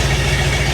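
A small-block Chevy 350 running rough and a little dirty, its steady low rumble close and unbroken for a brief moment with no talk.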